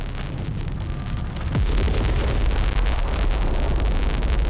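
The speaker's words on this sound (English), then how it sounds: "Cool guys, don't look at explosions." Explosions in the video game Outpost: Infinity Siege: a sudden boom with a falling whoosh gives way to a loud, sustained low rumble and roaring noise.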